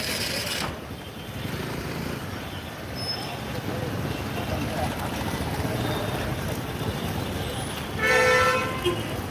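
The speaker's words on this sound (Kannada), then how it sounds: "ಟ್ರಾಫಿಕ್ ತುಂಬ ಇದೆ" Heavy Bangalore street traffic, a steady low rumble of engines with a loud horn blast near the end; someone talks over the noise.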